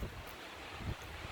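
Wind blows outdoors in the woods, a brief soft broadband rush with low rumbling gusts and no other sounds.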